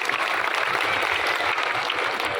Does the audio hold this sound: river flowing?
no